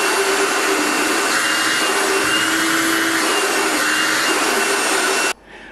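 A Black & Decker DV9610-XE handheld vacuum runs with a loud, steady whine and airy rush for over five seconds, then switches off abruptly, leaving only faint background noise.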